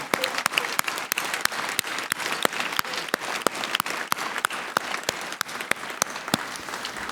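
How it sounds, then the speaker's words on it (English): Steady, sustained applause from a debate audience on Canadian healthcare fills the hall, a dense wash of clapping with individual sharp claps standing out near the microphone throughout. "you've already applauded them a few times, but another round is nevertheless much in order"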